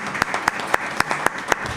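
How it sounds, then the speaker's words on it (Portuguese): An audience at a school innovation and creativity event applauds, with a few sharp individual claps standing out over a steady wash of clapping. "Então quero um forte aplauso para"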